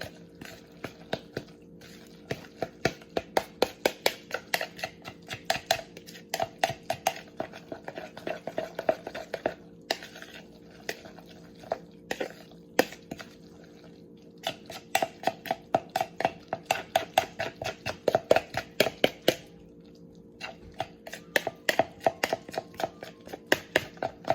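A spoon works deviled ham and mayonnaise together in a bowl, giving a steady run of close, sharp taps and wet squishes in an uneven rhythm.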